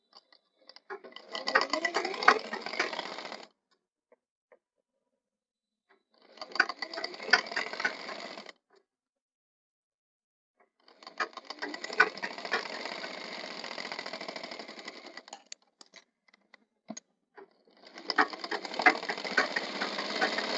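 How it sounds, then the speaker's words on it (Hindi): A sewing machine stitching a blouse runs in four separate bursts of rapid, even mechanical chatter, each a few seconds long, separated by near silence, close and fairly quiet. "अब इस पे सिलाई चला दिए हैं।"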